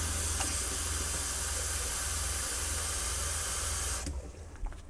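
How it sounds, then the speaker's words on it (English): Water runs from a motorhome shower during de-winterizing, a steady loud hiss and spray that stops abruptly near the end. "run the shower again until it's running clear"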